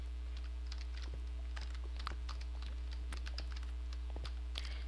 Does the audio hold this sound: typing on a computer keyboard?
yes